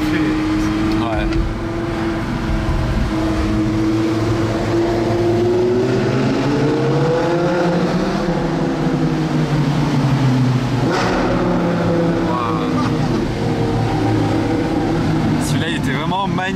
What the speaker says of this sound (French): Une symphonie en V10.